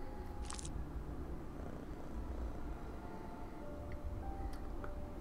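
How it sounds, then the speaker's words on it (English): Soft, steady purring of a black cat after being fed a fish in the video game Mystery Case Files 13: Ravenhearst Unlocked, a low continuous rumble with a faint chime and light clicks. "a little bit of a purr and you're on your way"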